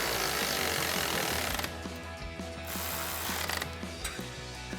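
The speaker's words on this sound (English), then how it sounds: "For our bigger ones at the bottom, I'm going to use an 8 millimeter Allen socket and an 18 millimeter wrench to tighten them." Ratchet wrench with an 8 mm Allen socket tightening the lower side bolts of a Westin HDX winch-mount modular grille guard on a 2019-2026 Chevrolet Silverado 1500: quick repeated clicking strokes in bursts, close and clear, with no talk.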